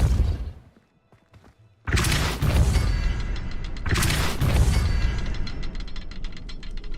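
Depulso spell cast in the Hogwarts Legacy video game: two heavy, booming bursts about two seconds apart, each followed by a crackling, rattling tail that lingers.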